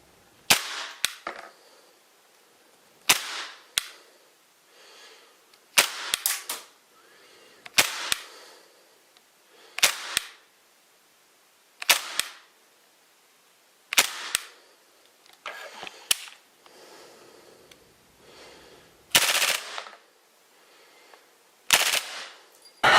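A Tokyo Marui MP7 gas blowback airsoft gun fires single sharp cracks over a chronograph, roughly a dozen shots spaced a second or two apart, each followed by a brief mechanical clatter, loud and close with no talk.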